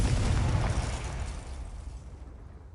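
A Confringo explosion spell bursts in a video game with a loud, deep boom that quickly decays into a fading rumble.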